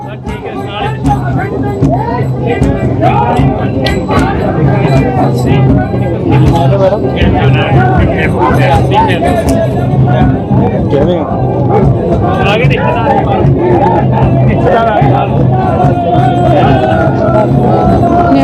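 A Sikh crowd shouts jaikaras as Guru Sahib's palki departs with a train yatra procession from Sri Amritsar. The loud, surging chorus of voices mixes with crowd babble and continues steadily throughout.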